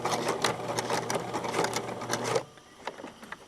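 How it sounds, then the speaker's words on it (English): A sewing machine runs steadily while back stitching a zipper seam, a fast mechanical whir with rhythmic needle ticks that cuts off sharply after about two and a half seconds, leaving near-silence with faint clicks. "So I'm going to back stitch."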